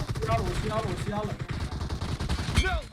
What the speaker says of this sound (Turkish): Kanka sen kime drop shot atıyorsun farkında mısın?